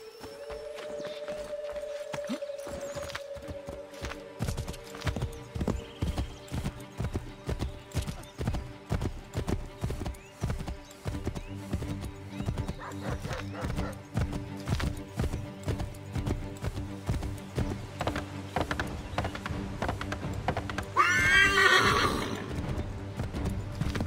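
In the Assassin's Creed III video game, a horse gallops with rapid, rhythmic clip-clop hoofbeats close by, opening with a whinny and ending with a loud neigh over the running hooves.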